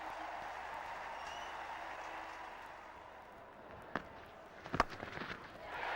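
Cricket crowd applauding Nathan Astle's double century in a 2001/02 New Zealand versus England Test, a steady, broad wash of distant clapping and crowd noise with a few sharper bursts near the end.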